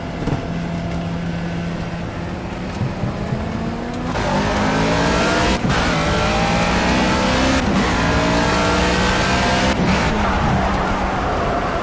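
Racing car engine in the driving game Project Cars, revving loudly and continuously with rising and falling pitch sweeps as gears shift, with no talk over it.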